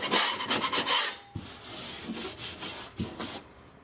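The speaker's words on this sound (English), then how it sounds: "Again, we use the putty knife to make it smooth." A putty knife scrapes dried paint drops smooth on a drywall surface in a closet, with several close, raspy strokes and short pauses between them, no talk.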